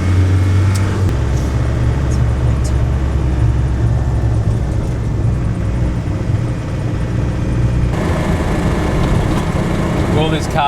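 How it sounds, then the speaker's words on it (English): A car engine strains loudly and steadily as the car climbs a hill, a close, continuous drone with a shift in tone near the end. "Will this car get up the hill?"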